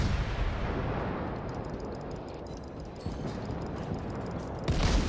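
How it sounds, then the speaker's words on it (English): The Novik destroyer fires armor-piercing shells in the naval video game World of Warships, heard as a dense, continuous roar of gunfire and rumbling booms, with a sharper, louder blast near the end. "Let's put some AP rounds on the deck."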